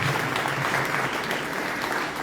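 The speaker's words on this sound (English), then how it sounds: "Let's give him another round of applause." Audience applause inside the Pawnee Nation Roundhouse at a storytelling gathering, a dense, steady wash of many hands clapping for the whole stretch, close and fairly loud with no voices over it.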